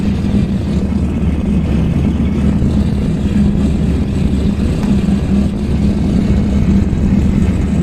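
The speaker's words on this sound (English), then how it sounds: "while those engines are warming up" Twin aircraft engines idle steadily while warming up in the IL-2 Cliffs of Dover flight simulator, a constant loud low rumble with an even drone and no pauses.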